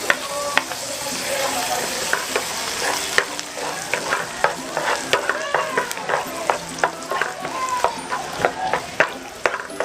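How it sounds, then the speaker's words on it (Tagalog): Garlic stir-frying in melted butter in a pan, a steady sizzle broken by repeated scraping and clacking strokes of the utensil at an uneven rhythm, close and fairly loud with no talking. "Stir fry lang."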